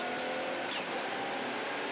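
A rally car with a sick engine runs a stage during the 2017 Rally Canterbury, round three of the New Zealand Rally Championship: a fairly faint, steady broadband engine and road roar with a brief swell midway.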